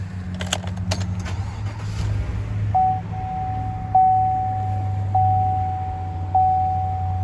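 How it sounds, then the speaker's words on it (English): A 2014 GMC Sierra 1500 pickup started by remote start, with a few jingling clicks early on, then a steady engine idle rumble and a tone that chirps repeatedly at intervals. "This truck does have remote start. I'm gonna go ahead and start it."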